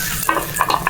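Food fries in freshly added oil while a utensil stirs and scrapes the pan, making brief close clinks and a sizzle over about a second.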